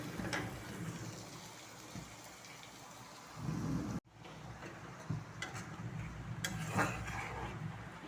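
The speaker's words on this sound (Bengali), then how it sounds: "আকাশ ভেঙে ঝড় বৃষ্টি নামতেছে" Heavy rain pours down in a storm, a dense steady hiss of falling water with low rumbles and occasional louder splashes, loud and close throughout.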